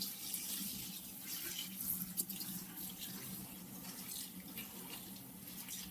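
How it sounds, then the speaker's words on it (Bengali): Water running steadily from a tap while flattened rice (chira) is rinsed, a continuous close splashing wash with soft irregular swishes. "চিড়েটা কিছু ধুয়ে নিচ্ছে"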